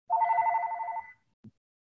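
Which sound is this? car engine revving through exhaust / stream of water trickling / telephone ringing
telephone ringing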